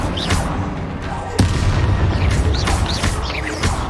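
Spell explosions from Bombarda or Confringo in the Hogwarts Legacy video game: a sharp, loud booming blast partway through amid dense, continuous combat noise with deep rumbling and crackling bursts.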